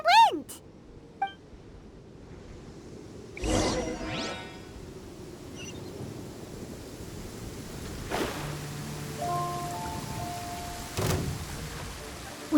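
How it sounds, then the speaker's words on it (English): Heavy rain falling in the video game Genshin Impact, a steady wash of rainfall running throughout, with occasional whooshes and chiming game tones over it and no talk. "With rain this heavy, not only..."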